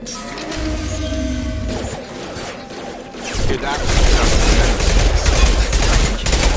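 Gunfire in a Mass Effect Legendary Edition firefight, with mechanical clatter and a brief voice giving way to a dense, loud burst of rapid shots and crashes.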